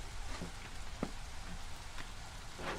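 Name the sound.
rain falling in the video game Against the Storm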